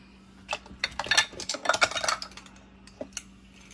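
Metal spoon scooping instant coffee granules into a bowl for whipped dalgona coffee, a cluster of close scraping clinks and taps over a couple of seconds, then a few lighter knocks, with no talking.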